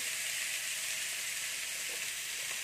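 Cauliflower fries in a pan with a steady, even sizzle that holds at the same level from start to finish, with no talk over it.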